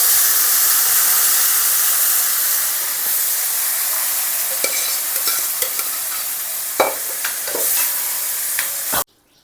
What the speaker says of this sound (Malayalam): കരിവേപ്പില കൂടി ചേർത്തതിന് ശേഷം നേരത്തെ ഞാൻ വെച്ചിരുന്ന ബീഫ് നമ്മളിതിലേക്ക് ആഡ് ചെയ്യണം